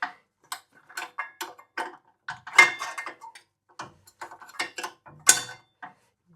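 A spanner works a fitting in a recess on a Suffolk Pony engine, giving irregular sharp metallic clicks and ratcheting ticks, close and fairly quiet in an otherwise silent space.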